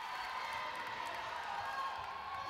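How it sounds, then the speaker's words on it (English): Cook Islands supporters at a netball match against Uganda, a steady, fairly distant crowd roar with cheering, whoops and scattered clapping, holding at an even level throughout. "To the delight of the Cook Islands crowd"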